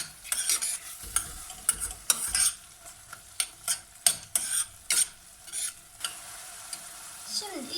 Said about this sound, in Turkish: Sarımsakla da şöyle bir dakika kadar kavuracağım.